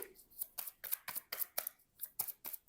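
Oracle cards being shuffled and riffled from a deck, making a rapid series of crisp papery flicks in an uneven rhythm, close and fairly quiet.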